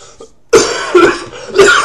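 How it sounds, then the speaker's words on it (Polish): A man who is sick with a cold coughs three times, harsh and close, while recording game commentary. A short quiet murmur comes before the first cough. "Przepraszam za ten kaszel"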